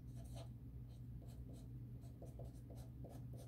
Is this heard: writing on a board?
yes